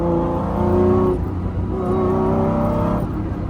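A Lamborghini Diablo engine revs hard under acceleration, loud and close from inside the car, its roar rising, dipping at a gear change, then climbing again.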